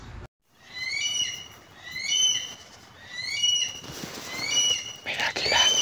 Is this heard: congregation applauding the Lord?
no